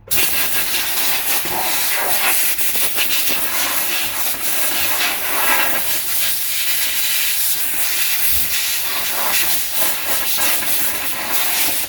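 Compressed air hissing steadily as it blows debris out of the brake hub of a 2006 Toyota Camry during a brake job, a loud continuous rushing blast filling the whole stretch with no talking.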